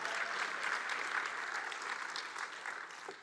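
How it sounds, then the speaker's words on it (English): Church congregation applauding during a sermon, steady mid-distance clapping from many hands that eases slightly near the end, with no talking. "Go ahead and clap if you want to clap"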